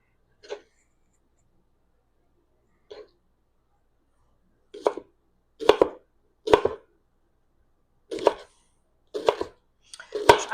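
A knife cutting cabbage on a cutting board: close, crisp chops, two isolated strikes at first, then quicker clusters of cuts separated by short silences, with no voices.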